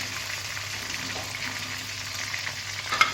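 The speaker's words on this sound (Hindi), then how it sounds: "ये देखिए व्यूवर्स, कोफ्ते जो थे वो हमारे फ्राई हो चुके हैं।" Chicken koftas fry to light brown in oil, giving a soft, continuous sizzle with faint stirring, fairly quiet and steady, ending in a small clink.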